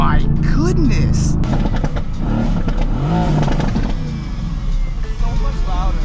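Mercedes-AMG GT S with its secondary catalytic converter deleted, the exhaust revving loudly close by through several rising and falling throttle blips with some clatter, under a person talking.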